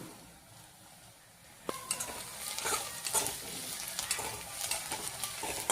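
Asafoetida and turmeric drop into hot oil with sautéed onion for whole masoor masala, breaking out after a quiet start into a close, crackling sizzle as the pan is stirred.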